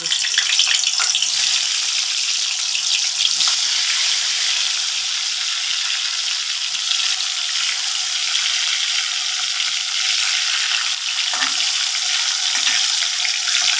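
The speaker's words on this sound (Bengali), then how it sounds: "তেলটা গরম হয়ে গেছে এবার আমি ভাজাগুলি ভেজে নেব" Vegetables such as potato and pointed gourd frying in hot oil in a wok, a steady close hiss that continues without a break and with no talk.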